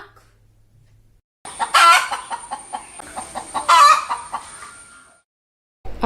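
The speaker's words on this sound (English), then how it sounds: "Hens" Hens cluck loudly and repeatedly in a busy burst of squawks and clucks, close by, for several seconds before a short silence.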